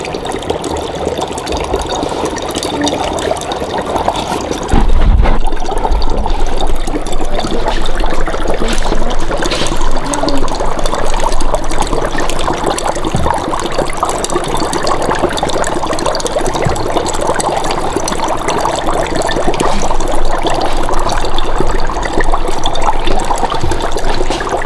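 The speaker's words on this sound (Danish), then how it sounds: "hvis vi her tager vores kogende vand og hælder ned oveni" Boiling water poured over dry ice in a CO2 sublimation demonstration, giving a steady, loud bubbling and gurgling wash with trickling liquid throughout, plus one brief thump near the start.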